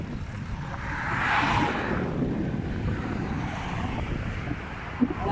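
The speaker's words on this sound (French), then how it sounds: "le vent, c'est un peu dur" Strong wind roars steadily across the microphone while cycling through open Danish countryside, a continuous broadband rush that swells midway and stays loud throughout, with no voice heard.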